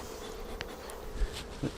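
Honey bees buzz around a Flow Hive Classic in a faint, continuous drone, with a few brief nearby sounds of handling.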